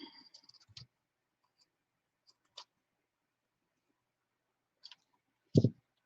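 A few sharp, isolated scissor snips cut through decorative fabric trim, spaced out by quiet pauses, with a slightly fuller snip near the end.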